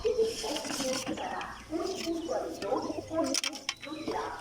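Pet pigeons coo in soft, repeated low throbs, mixed with other bird calls and heard under someone talking nearby.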